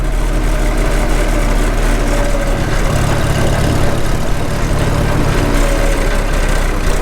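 A Farmall H tractor engine, freshly sleeve-repaired, runs in fifth gear as it coasts downhill and powers back up, a loud, close, continuous low rumble with a steady mechanical drone throughout.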